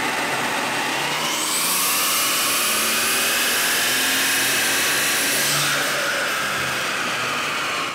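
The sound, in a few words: Mercedes CL65 AMG engine revving on a dyno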